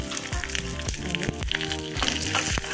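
Curry leaves and green chillies dropped into a hot oil tempering with mustard seeds and lentils crackle and sizzle loudly and continuously at close range, with scattered sharp pops.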